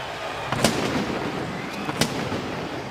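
A pirate ship cannon fires in a football stadium, a pair of sharp booming blasts over a steady roar of crowd noise.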